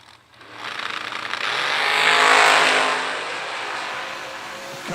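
A supercharged drag race car on a racetrack roars past, its engine noise swelling from quiet to a loud peak mid-clip and then fading away, with no talk over it.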